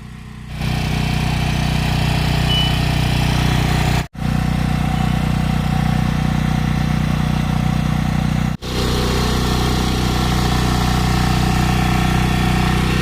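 A farm machine earthing up soil between rows in a taro field, its engine running in a steady, loud mid-range drone close by, with two brief dropouts in the sound.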